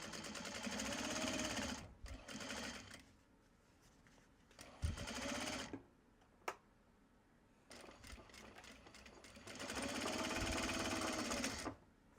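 A sewing machine stitches a Japanese fabric bag in several runs of steady, close mechanical whirring, with quiet handling sounds and short pauses between the bursts.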